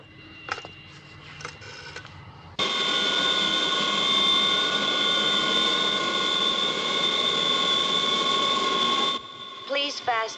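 Steady, loud jet engine roar with bright high whine tones from an airliner preparing for takeoff, holding for several seconds before cutting off, with quieter cabin sounds and a brief voice before and after.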